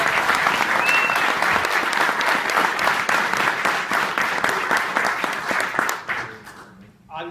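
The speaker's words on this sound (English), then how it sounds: "So let's give him a round of applause." Audience applause at a chamber of commerce board meeting in Salt Lake, dense sustained clapping that thins and fades near the end, followed by a brief voice.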